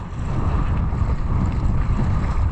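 Strong 25-30 knot wind roars steadily into the microphone while kitesurfing at Foça, Turkey, a loud continuous rush and buffeting with no pauses.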